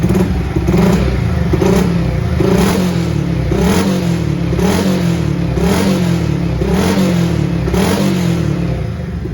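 A Yamaha Vixion R motorcycle engine with a racing exhaust fitted with a silencer insert revs repeatedly in a steady rhythm, each throttle burst rising and falling with a muffled, deep exhaust tone, close and continuous.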